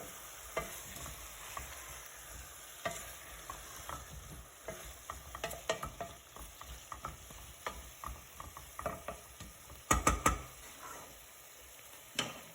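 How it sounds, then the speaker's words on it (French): Potatoes being stirred into a meatball and pea tajine, a spoon scraping and knocking in irregular bursts over a soft, steady sizzle, with a louder cluster of clatters near the end and no talking. "Je vais mélanger."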